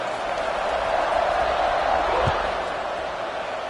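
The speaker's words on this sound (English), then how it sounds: "this crowd is buzzing after that last score" A football stadium crowd at a Glaciers vs Lions game keeps up a steady, dense roar that stays loud and even throughout, with a brief thump partway through.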